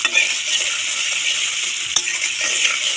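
A spatula scrapes and stirs noodles around a hot frying pan, with a continuous sizzle from the oil and one sharp clack of metal on the pan partway through.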